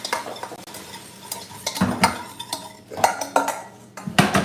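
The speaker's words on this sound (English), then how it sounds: "Now I'm gonna crank these veggies up and get these sauteing." Vegetables sauté in a pan on a home stove, a soft sizzle under irregular stirring and the clink of a utensil against the cookware, close and moderately loud with no talking.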